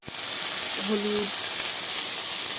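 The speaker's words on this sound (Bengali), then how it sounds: "ভালো করে কষিয়ে নেবো মশলাটা।" Spice paste with tomato and turmeric is being stir-fried in a hot wok, giving a brief, steady, close sizzle with a short utensil scrape and a faint tonal squeak partway through.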